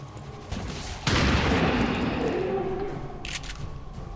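Gunfire in the video game XCOM 2 as zombies are shot. One heavy, booming shot lands after a brief lead-in, followed by a lingering rumble and a faint clatter.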